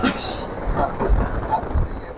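A train runs on rails as the Korotoa Express takes a long curve, with a steady rumble and faint rhythmic wheel clatter heard from inside.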